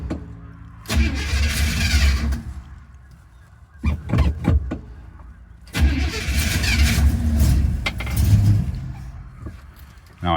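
A 1964 Buick LeSabre with a newly hooked-up fuel supply and an unadjusted carburetor, cold, cranking in two loud close attempts with clunky mechanical knocks between them.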